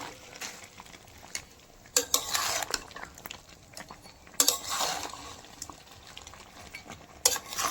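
Meat and purple cauliflower stirred in a frying pan, a steady sizzle under repeated scraping and clinking of a utensil against the pan, with louder stirring bursts now and then.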